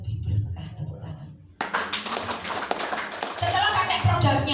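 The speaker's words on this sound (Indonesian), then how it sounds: "Tepuk tangan." An audience claps at a business talk: a burst of many hands starts partway through, following a low murmur of voices, and keeps going dense and steady to the end.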